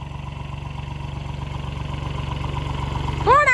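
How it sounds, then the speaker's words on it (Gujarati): Tractor engine idling on a farm, a close, steady low chugging throb that grows slightly louder, with a brief voice cutting in at the end. "કોણ હાકે ટ્રેક્ટર? કોણ હાકે?"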